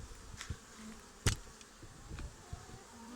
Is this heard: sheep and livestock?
no